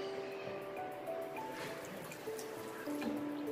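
Water runs from a tap while a toothbrush is rinsed after dinner, a soft steady trickle with light splashing and small tonal dribbles, fairly quiet and continuous.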